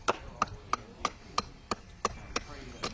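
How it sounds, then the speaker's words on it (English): A hatchet chops into wood during a hand wood-carving demonstration: nine crisp, evenly spaced strikes land about three times a second, close and clear over a quiet background. "you would take your hatchet and chop like this, and then take all that off."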